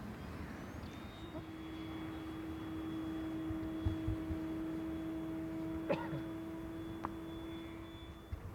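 The electric motor of a Multiplex Funray RC model glider hums as a steady whine in an outdoor hillside setting, faint and continuous with a few brief clicks.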